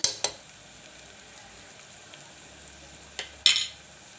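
Cucumber for a North Karnataka-style cucumber curry fries in a pan with a soft, steady sizzle, broken by a few sharp scrapes and clinks of stirring.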